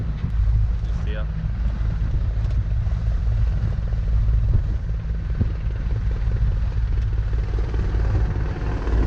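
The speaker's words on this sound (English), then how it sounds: "helicopter flying back over here now" A helicopter flies low over the sea near islands during a search for a boat in distress, its steady rotor thump loud and continuous, with wind buffeting the microphone throughout.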